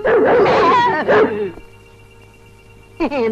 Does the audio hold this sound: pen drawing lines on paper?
no